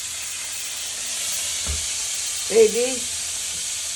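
Stuffed escarole frying in a pan, a soft, steady sizzling hiss that runs throughout, briefly interrupted by a single short spoken word and a light knock.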